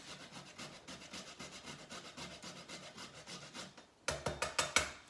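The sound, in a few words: grating nutmeg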